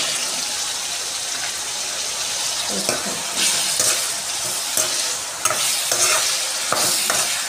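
Turmeric being stirred into food frying in a pan, a steady close sizzle with scraping spoon strokes and a few sharper clatters against the pan.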